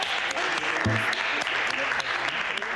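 Applause from an audience at an exhibition event, a steady wash of clapping with a voice briefly cutting through near the middle.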